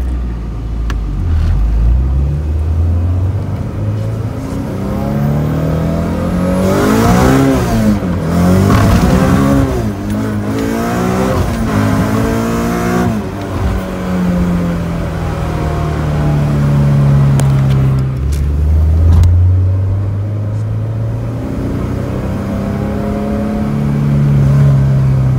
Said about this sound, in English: here's a little video of the car in first, second,